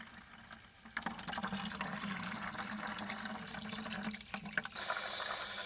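Water flushes steadily through the heater core of a 2013 Toyota Sienna, a continuous close rushing and gurgling flow that holds for several seconds with no talk.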